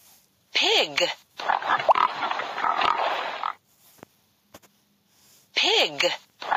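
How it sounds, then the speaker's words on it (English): Cartoon pig oinks and grunts from a children's animal puzzle mobile game, loud and close, in a few bursts with a longer rough snorting stretch between them. "Pig."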